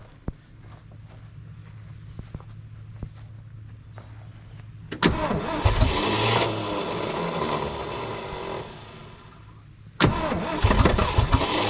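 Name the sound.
old Ford truck engine starting after 20 years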